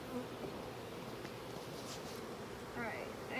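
Honey bees buzz steadily around a hive during installation, a dense continuous drone of many insects close by, with a few louder wingbeats passing near the end.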